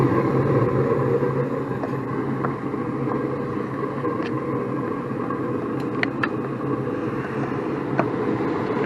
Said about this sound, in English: here in just a second we should hear the blower motor come on